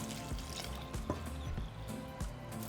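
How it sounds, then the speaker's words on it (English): Boiling water pours steadily over rice with a liquid, trickling splash, a continuous moderate pour with small drips and bubbling throughout, no voices. "we're just going to cover it with 4 cups of boiling hot water"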